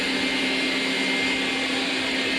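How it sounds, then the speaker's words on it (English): A Xiaomi Mijia 2C robot vacuum cleaner runs at maximum power with a steady, loud whirring hum and a constant motor tone, close by and alone without speech. "Considering the increased suction power, the noise level is acceptable, and we can say standard as for robot vacuum cleaners."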